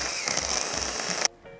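A power drill bit grinds through a plastic headlight dust cap with a loud, continuous buzzing whir that cuts off abruptly near the end, followed by a faint mechanical hum.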